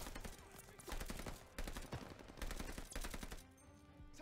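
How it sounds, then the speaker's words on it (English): Gunfire from the video game Call of Duty Vanguard, set during Operation Tonga: loud bursts of rifle and machine-gun fire in rapid, repeated volleys, with a brief pause near the end. "Suppressive fire now."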